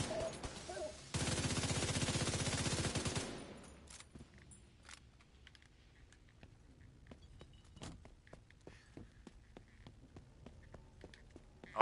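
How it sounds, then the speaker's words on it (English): Gunfire in the Division 2 video game: a sustained rapid automatic burst lasting about two seconds, then scattered faint single shots and clicks over a quiet background. "Started firing way too early there."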